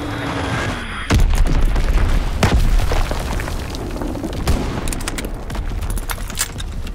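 Fritz X bombs explode in Call of Duty WWII, opening with a heavy boom followed by rolling blasts, scattered pops and bursts of gunfire, loud and dense throughout.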